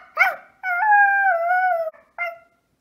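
A dog gives a long, wavering howl, preceded by a short yelp and followed by a brief closing yip, close and clear with no other sound.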